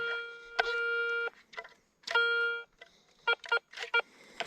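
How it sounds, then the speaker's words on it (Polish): A metal detector pinpointer beeps in short bursts, a couple of longer steady beeps followed by rapid chirping pulses, close and fairly quiet. "Pierwszy sygnał."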